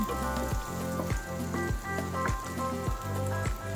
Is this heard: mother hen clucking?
no